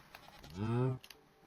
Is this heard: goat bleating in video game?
yes